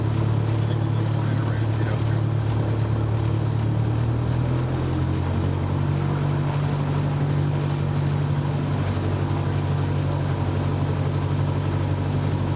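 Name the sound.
small aircraft taxiing toward the runway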